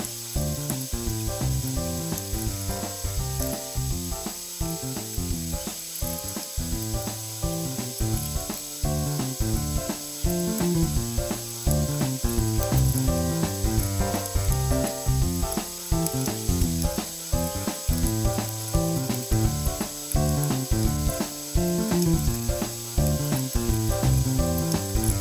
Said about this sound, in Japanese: 10分くらい炒めたら終了です